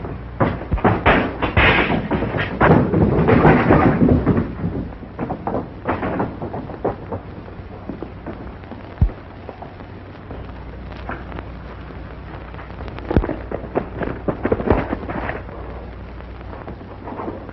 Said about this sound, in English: What was that? Sounds like an explosion.